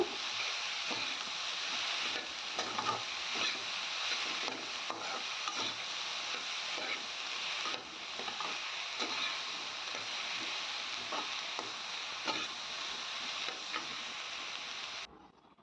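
Vegetables stir-fried in a pan until their water cooks off, giving a steady close sizzle with a spatula scraping and stirring throughout, no voices.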